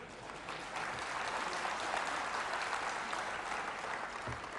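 Steady applause from a large audience, a dense rush of clapping that builds slightly and holds for several seconds with no talking.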